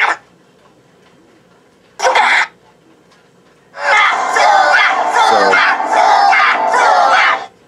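Jawa chattering and squeaky alien voice noises played through a Star Wars sound glove prop, heard as a short burst, another brief burst, then a longer loud stretch of gabbling with quiet gaps between.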